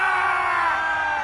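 Roaring crowd at an India versus Australia cricket match, a loud sustained mass of yelling and cheering rising in a single swell from a packed stadium.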